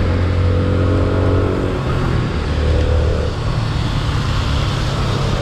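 A Yamaha Sniper 150 underbone motorcycle rides along Roxas Boulevard with a loud, close engine drone and wind rush. The engine pitch climbs as it revs through the gears, then settles into steady cruising.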